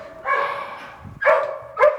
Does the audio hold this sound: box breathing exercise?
no